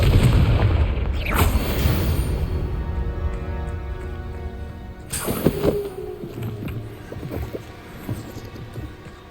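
Booming Confringo spell blasts in the Hogwarts Legacy video game, a heavy rumbling burst at the start and another sharp explosion midway, with crackling debris and low rumble trailing off.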